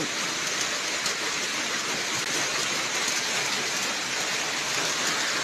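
Steady, dense rain hisses continuously with an even wash of droplets, close and fairly loud, with no voices.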